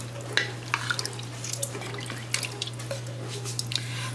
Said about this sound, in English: Let's stir that up.